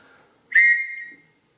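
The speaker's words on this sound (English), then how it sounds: "Because the proof is in the blowing, right? It's a solid whistle." A single sharp, piercing blast from a survival whistle, loud and close, held for about half a second before fading out.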